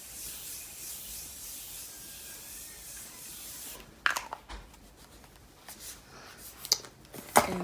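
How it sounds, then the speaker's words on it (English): Morphe setting spray is misted onto a face in a few short, breathy hisses, following a stretch of soft rubbing and faint background noise. "I think I'm gonna mist with my Morphe setting spray"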